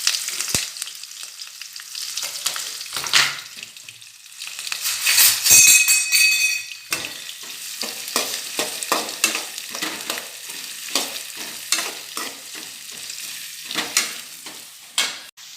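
Sliced onions fry in oil with green chillies and whole spices for a biryani-style dish. A steady sizzle runs throughout, broken by repeated scraping stirs and a louder clattering burst midway, with no talking.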